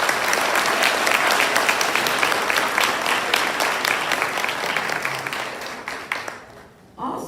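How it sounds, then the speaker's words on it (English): An audience applauds a scholarship honoree at a high school senior awards ceremony, with loud, close applause and distinct individual claps that fade toward the end before a brief lull. "Please join me in giving Sheldon another applause."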